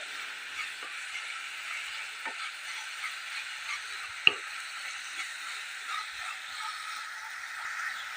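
A sweet mixture, with optional ground cashews and dry fruits, is stirred in a pan as it cooks, giving a soft steady sizzle with faint scraping taps and one sharper clack of the spoon against the pan.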